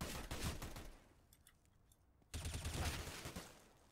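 Rapid pistol shots fired in the game CS:GO, a quick burst of sharp cracks, a short pause, then another close, loud volley, with no talking.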